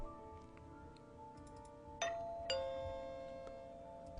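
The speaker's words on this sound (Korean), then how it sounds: "초인종을 누르자" A doorbell chimes twice in quick succession, two clear ringing tones that decay slowly over a soft background drone, as a sound effect in a horror radio drama.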